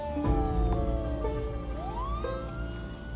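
Ambulance siren in the video game Project Zomboid, a steady wailing tone rising and falling continuously, loud and alone over a low rumble.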